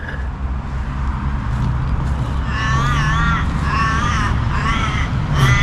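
Crows cawing in a residential area near a lake in Forster, New South Wales, Australia, giving several harsh, repeated caws in bursts over steady traffic and outdoor background noise.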